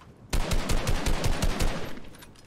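Gunfire in a competitive online shooter video game: a fast run of sharp, loud shots in an irregular rhythm lasting about two seconds, with no talk over it, then fading to a low background.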